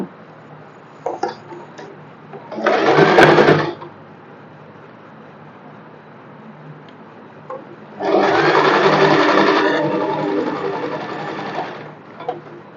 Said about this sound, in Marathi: इथूनच मी दाब शिलाई मारून घेते